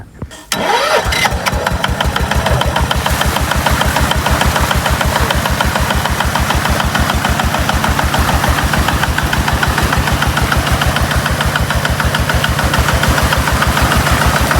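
A Kubota ZT155 single-cylinder engine driving a water pump starts up and settles into a loud, steady, rapid chugging beat that holds for the whole stretch.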